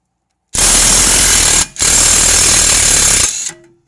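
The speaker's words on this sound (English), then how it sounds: "so I'm gonna try to use my impact wrench and a 22" An impact wrench with a 22 mm socket hammers loudly and close on a rear strut bolt of a 2015 Toyota Camry, two sustained rattling bursts separated by a brief pause, alone without talk.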